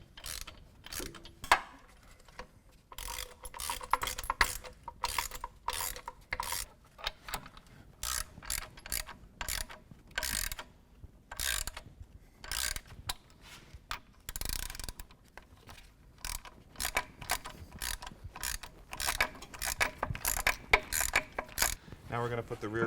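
Ratchet spinning locking nuts onto bolts under a 2017 Chevrolet Silverado 2500 HD during a Havoc Offroad 5-inch lift kit install: rapid bursts of close, crisp clicking that start and stop repeatedly, with brief pauses between runs.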